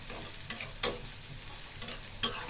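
Chopped onion and garlic frying in a pan, a quiet steady sizzle broken by a few sharp stirring scrapes and taps, close by, with no talking.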